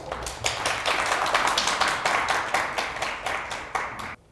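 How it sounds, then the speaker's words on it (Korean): An audience at a youth committee orientation claps enthusiastically, with sharp, distinct handclaps close by in a sustained burst that ends abruptly after about four seconds. "큰 박수 부탁드리겠습니다."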